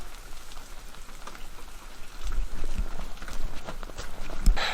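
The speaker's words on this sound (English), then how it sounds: "It just started raining." Rain begins to fall outdoors right after demolition work, a soft patter that thickens partway through into steady drops on surfaces, with a few sharper taps near the end.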